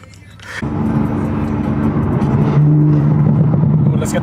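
A 2020 Toyota Supra with an RK titanium single-exit exhaust and AMS catted downpipe revs loudly from the cabin, its drone rising and holding after a sudden start.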